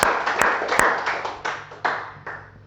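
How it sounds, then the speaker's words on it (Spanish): A church congregation applauding during a Spanish-language sermon, with a few sharp claps standing out at the start over a steady fading patter of hands. "¿Puede brindarle usted un fuerte aplauso al Señor?"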